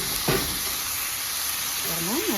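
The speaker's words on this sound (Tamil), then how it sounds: "சாப்பாடு போட்டு தாளிக்க போகிறோம்." Leftover rice dropped into a pan of bubbling tamarind mixture, giving a steady close sizzle and hiss with a brief scraping stir near the start and a short sliding stir toward the end.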